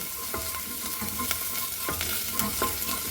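Garam masala and spices being stirred in a pan over moderate heat for a veggie bhuna curry, soft sizzling with repeated scraping strokes of a spoon at a steady rhythm, close and alone.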